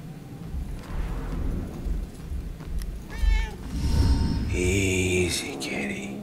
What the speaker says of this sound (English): Where'd the cat go?